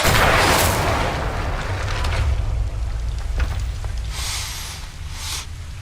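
Incendio fire spell cast in the video game Hogwarts Legacy, a loud whooshing burst of flame at the start followed by a crackling, roaring rumble with smaller flaring surges later.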